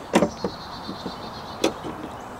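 The hood of a 2024 Mustang GT releasing, with a few quiet mechanical clunks and clicks: two sharp latch pops about a second and a half apart, separated by lighter knocks.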